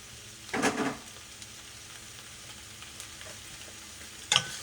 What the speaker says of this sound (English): I'm gonna add in the mushroom.